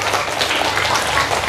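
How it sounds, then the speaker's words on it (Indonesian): Loud, dense applause from an audience at an Islamic sermon gathering with madrasah teachers and students, a brief burst of rapid clapping that fills the space. "Tepuk tangan dulu, masya Allah."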